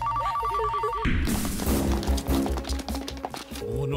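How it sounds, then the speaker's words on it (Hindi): A telephone bell rings in steady repeated bursts at first, then gives way to loud, busy crashing and thumping noise. "उठाओ फोन उठाओ।"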